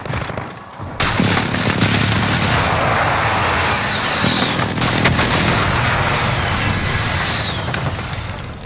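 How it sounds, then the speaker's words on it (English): Precision airstrike explosions in Call of Duty: Modern Warfare form a loud, sustained roar of overlapping booms and rumbling blasts lasting several seconds after a brief quieter lead-in. "Allied precision airstrike incoming."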